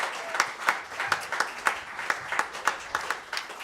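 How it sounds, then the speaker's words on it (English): A live concert audience at a world stage series show claps in a loose rhythmic patter of sharp individual claps, moderately close, with some voices mixed in. "Give yourselves a round of applause"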